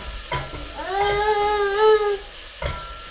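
Ground turmeric, cumin and coriander powders cook in a pan for egg bhurji, giving a soft sizzle with a few stirring scrapes and a drawn-out squeaky tone in the middle, with no talking.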